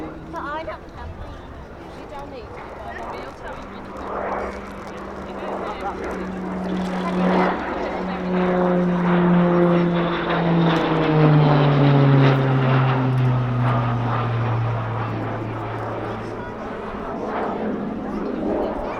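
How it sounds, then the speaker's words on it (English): An RAF Tucano with a Garrett TPE turboprop engine performs at an airshow, its propeller drone swelling loud and shifting pitch as it sweeps past, while an announcer talks throughout. "the operated Garrett TPE turboprop engine fitted to the Royal Air Force Tucano by Shorts in Belfast"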